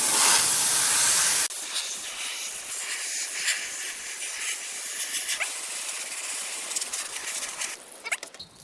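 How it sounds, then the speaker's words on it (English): A steady hissing water spray rinsing a car air filter from the inside out, starting loud and harsh, then continuing as a lighter shifting spatter against the filter media with flickering bursts. "So we're gonna rinse from the outside, the inside to the outside first"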